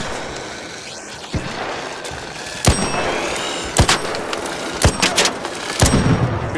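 Gunshots ring out in the sci-fi strategy game StarCraft 2, a few sharp separate blasts spaced through the clip over a dense, noisy battle background, with faint talk barely present.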